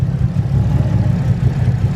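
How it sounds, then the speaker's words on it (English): A Nissan Skyline R33 running on E85 idles at about 600 RPM, giving a loud, close, lumpy low rumble with a steady pulsing rhythm from its cams. "It's at 600 RPM and you can really hear the cams at 600 RPM."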